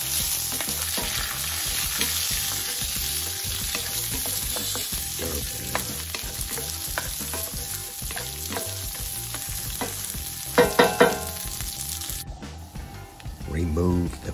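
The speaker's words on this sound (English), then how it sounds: "stir it up." Peanuts and red pepper flakes fry in a pan while being stirred, a steady close sizzle with scraping stir strokes and a few sharper clatters near the end, under background music.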